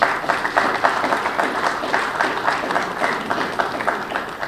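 Audience applause in a hall at a works ministry press retreat, a crowd clapping in an uneven pulsing rhythm that fills the room, moderately loud and without speech.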